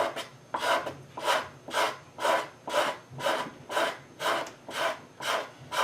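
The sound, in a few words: scraper blade scraping hide glue off a serpentine chest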